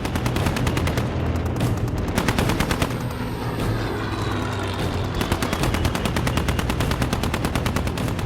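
Machine gun fire from German Focke-Wulf 190 fighters diving on a B-17 bomber, a loud, relentless rapid rattle of overlapping bursts, continuous from start to finish.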